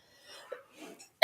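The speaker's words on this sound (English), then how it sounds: "If I'm coughing, just turn your volume down." A woman coughs softly a few times indoors during a stenciling session, brief muffled bursts with quiet breathing, followed by a sharp louder sound at the very end.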